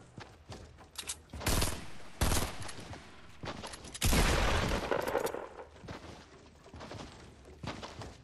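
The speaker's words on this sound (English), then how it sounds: "He's getting shot at right now, bro." Bursts of Fortnite Battle Royale gunfire rattle through an online match, with scattered single shots and several loud rapid volleys, the heaviest near the middle, over faint background game sound.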